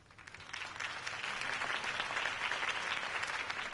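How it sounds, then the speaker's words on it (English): Crowd applause in the Batman Telltale game follows a Harvey Dent campaign speech: dense, steady clapping from a large audience that swells slightly and keeps a continuous roar without voices. "could have heard that applause"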